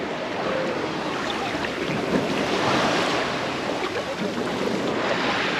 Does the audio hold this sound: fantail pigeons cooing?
no